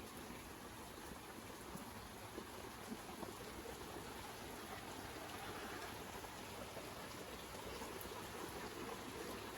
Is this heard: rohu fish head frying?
no